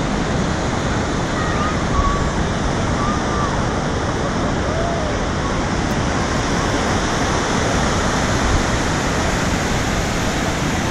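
Ocean surf breaks on a shore in a constant, dense roar of washing water, loud and close with no pauses between waves.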